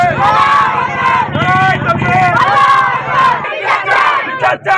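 Crowd of protesters in Beldanga shouting slogans in loud unison chants, rhythmic bursts of many voices close to the microphone, with a break near the end where scattered shouts continue.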